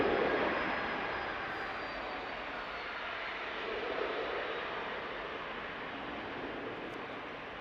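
A Jet2 Holidays airliner at Manchester Airport produces a steady, broad engine roar that holds fairly constant and swells slightly midway, heard from a distance with no talking.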